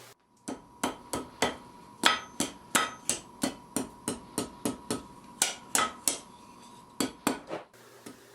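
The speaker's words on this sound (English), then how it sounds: "In this last heat, I'll clean up the taper and forge the hook" About twenty sharp ringing hammer blows on an anvil as a steel wall hook is forged, delivered in a quick uneven rhythm with metallic clinks, close and loud, with a short pause between bursts.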